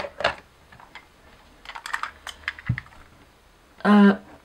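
Keystrokes on a computer keyboard erasing text, a scattering of quick clicks followed by one louder, heavier press near the end, fairly close and without talk.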